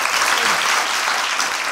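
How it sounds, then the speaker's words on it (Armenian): An audience applauds a young musician on a children's talent show, dense continuous clapping from many hands, loud and even throughout with no pauses. "ապրես դու այս ծափարությունները քեզ"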